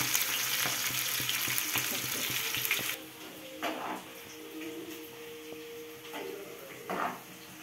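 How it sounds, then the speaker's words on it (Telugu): Ingredients for fish biryani fry in a pan with a loud, steady sizzle for the first three seconds, then quieter crackling with occasional scrapes and stirring clatters. "ఇది కలర్ చేంజ్ అయ్యే వరకు వేయించుకోవాలి."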